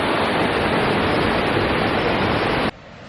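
A steady, loud roar of rushing water from a waterfall pouring over the top of a building at an amusement park goes on without a break, then cuts off abruptly near the end.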